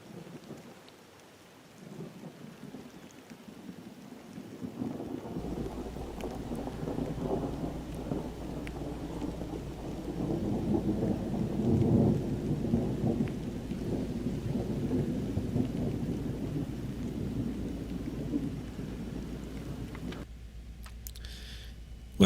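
A thunderstorm that is regenerating with a new updraft base, with steady rain and rolling thunder building to a loud, continuous roar before easing off near the end.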